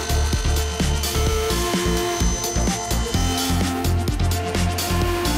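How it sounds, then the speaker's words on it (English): A table saw whines steadily while cutting a slot in wood, with repeated rhythmic knocks and a constant high mechanical drone. "At the table saw, I remove the waste within this slot where the drill will go"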